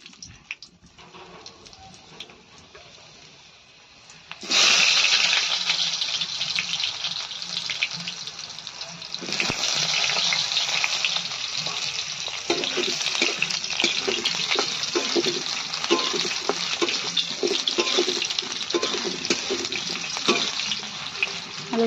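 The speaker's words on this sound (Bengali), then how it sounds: "আলুটা যখন লাল লাল করে ভাজা হয়ে যাবে তখন আলুগুলো আমি নামিয়ে নেব" Potatoes fry in leftover fish oil in a pan, a loud, steady sizzle that jumps up sharply partway through and keeps hissing with occasional crackles and stirring scrapes, no voices.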